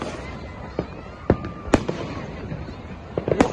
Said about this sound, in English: Big fireworks they are.